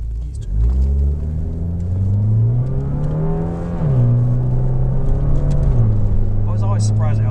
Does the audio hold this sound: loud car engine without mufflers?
yes